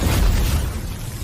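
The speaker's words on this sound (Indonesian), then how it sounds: "ia pun segera melepaskan ledakan energi dari teknik gerbang ajaibnya agar bisa segera mengakhiri pertempuran" An animated energy explosion bursts from a magic gate technique, a loud, rumbling, broadband blast that fills the moment and slowly thins out, with no voices.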